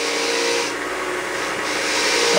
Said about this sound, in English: using the wire wheel to pull the burr out of the end of the thread there